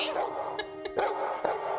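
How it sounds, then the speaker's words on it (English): A working dog in Australia barks several times, short sharp barks close by with a faint whine between them. "I know you're gonna bark"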